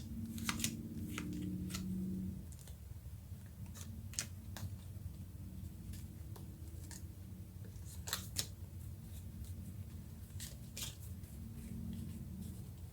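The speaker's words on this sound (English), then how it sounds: "some of the cards flipped while I was shuffling." Tarot cards being shuffled by hand, heard as soft irregular snaps and riffling clicks over a low steady hum, quiet and close.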